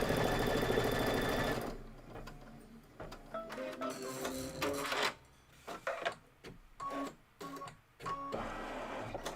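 A Kimberbell embroidery sewing machine runs an outline stitch on quilt squares, a steady close mechanical whirring and rapid needle ticking that stops and starts in short bursts after a louder opening passage.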